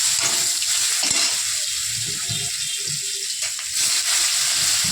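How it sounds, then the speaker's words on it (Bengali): Vegetable stalks fry in hot oil in a pan, giving a steady, close sizzle with occasional soft stirring knocks throughout. "একটু ভেজে তুলে রাখবো ডাটাটা।"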